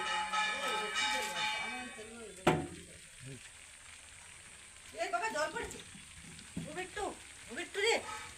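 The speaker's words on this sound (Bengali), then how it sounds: "এটা হচ্ছে পাম অয়েল তেল ঢালছি" Palm oil poured into a hot pan for frying fuchka brings a soft, low sizzle that fades in and out, while a person talks intermittently over it.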